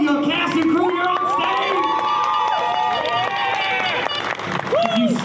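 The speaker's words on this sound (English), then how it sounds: "big round of applause for all your cast and crew here on" A convention hall audience at a horror film panel roars with cheering, whoops and applause for the cast and crew, a dense, loud, sustained crowd sound with shouting voices throughout.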